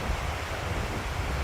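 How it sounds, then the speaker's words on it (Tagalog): Waves on a lake, whipped up by strong wind, make a soft, continuous rushing wash mixed with gusty wind noise, faint and without voices. "Kala mo alon nga pero hindi yan natural alon. Nag-aalon lang yan kasi malakas ang hangin."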